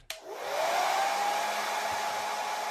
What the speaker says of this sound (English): A hairdryer. Is the right answer.